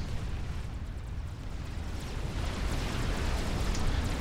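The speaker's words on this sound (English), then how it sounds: "Big fire explosion." Big fiery explosion in the Supreme Commander strategy game, a sustained heavy rumbling blast that swells and holds loud throughout without a break.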